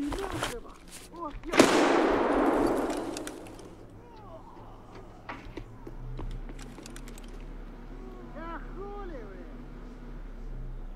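Gunfire in Escape from Tarkov on the Reserve map: one loud, sharp burst of shots early, then quieter, more distant pops and clatter, with voices talking throughout.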